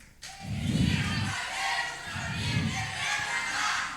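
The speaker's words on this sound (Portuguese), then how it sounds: "Muito bem, as palmas." A church congregation at a youth cadet gathering applauds in a large hall, with the clapping swelling in waves and carrying on steadily at a moderate distance, without any talking.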